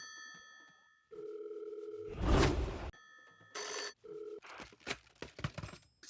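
Telephone ringing with no answer: a loud electronic ring with clear tones sounds in repeated bursts, broken by a rumbling rush of noise and scattered clicks and knocks.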